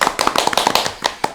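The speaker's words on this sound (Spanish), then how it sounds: "¡Aplausos! Aplausos." A lecture audience claps after a talk on the hermetic principles, a quick burst of sharp, closely spaced handclaps, loud and close, with no voices over it.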